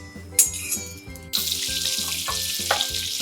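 Oil and butter sizzle in a kadhai for paneer butter masala, a bright steady hiss that jumps louder after a moment and holds, with a few clinks, under a low repeating background tune.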